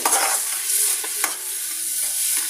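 A curry mixture is stirred in a pan, scraping and sizzling steadily throughout with a spoon clattering against the metal, close and fairly loud with no talking.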